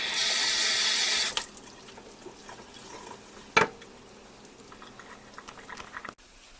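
Tap water runs hard into a pot for lentil soup for about a second, then cuts off, followed by quieter kitchen handling, a single sharp clank, and more soft clatter.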